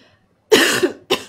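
A person coughs twice up close: a loud, rough burst followed by a shorter second cough, with no talking.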